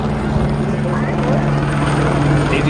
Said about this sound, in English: Watch as the police helicopter lands and the special unit is dispatched.